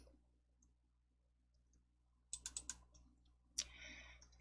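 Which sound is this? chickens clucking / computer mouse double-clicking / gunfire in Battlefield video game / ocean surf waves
computer mouse double-clicking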